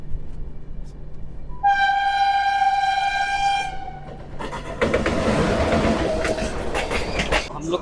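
The Goda Mumbai LTT SF Express pulls into Igatpuri station, sounding a loud, sustained horn for about two seconds, followed by rumbling wheels and clattering carriages close by.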